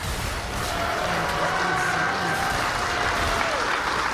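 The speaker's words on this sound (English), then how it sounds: "Please give a round of applause." An audience breaks into sustained, dense applause, many hands clapping steadily, with faint voices and a tone mixed underneath.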